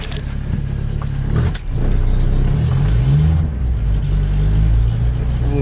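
A cold car engine starting on choke, cranking and then catching into a loud, uneven idle with a rising rev partway through, close up with no talking.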